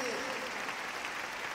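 A congregation at a Bible study gathering applauds, a dense, even patter of many hands clapping throughout, moderately loud and continuous with no clear pauses.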